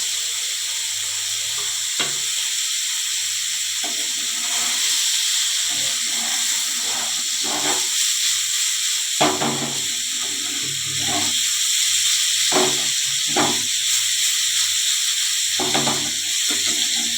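Paneer pieces frying in a pan for masala paneer, with a steady broad sizzle broken by sharp crackling bursts and spatters.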